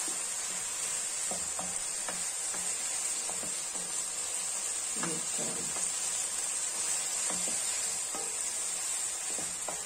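Garlic and other ingredients sauté in a pan with a steady bright sizzle and scattered small crackles and stirring clicks, close and continuous.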